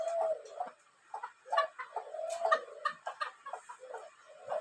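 Chickens cluck in short, close bursts, with a few drawn-out calls mixed in and brief pauses between them.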